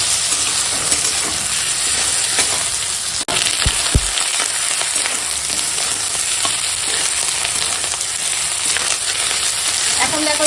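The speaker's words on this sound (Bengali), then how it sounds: "জিরে বাটাটা দিয়ে ভালো করে কষিয়ে নেবো।" Cumin paste, potatoes and eggplant sautéing in a pan, a loud continuous sizzle and hiss of frying with occasional stirring scrapes and a brief clatter, close up and without talk.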